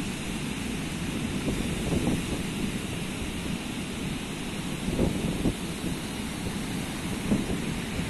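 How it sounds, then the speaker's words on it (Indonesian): Ocean waves break and wash ashore at Beteng beach in a steady, broad roar of surf. Wind noise rushes over the microphone and a few swells rise slightly louder. "Wow, ombaknya tuh keren."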